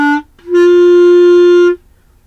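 A clarinet sounds an open G with no fingers or thumb down: one short blown note, then a steady sustained tone of about a second and a quarter, close and clear, with no talking.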